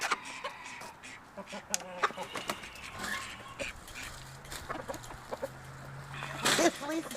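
Hens clucking in a backyard coop in winter cold before a blizzard, scattered short calls and a few louder squawks over a low background hum, with some faint human sounds.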